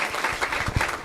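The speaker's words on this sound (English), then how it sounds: "Kindly welcome her with a round of applause." Audience applause at a seminar on Africa, a steady patter of clapping from a crowd that holds for about a second with no talk over it.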